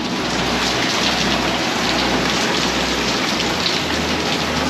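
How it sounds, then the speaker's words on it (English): Steady, dense rain pours down outdoors at a hilltop temple museum in Bangkok, a loud continuous hiss with low rumbling underneath and no voices. "they're letting us stay here in the rain"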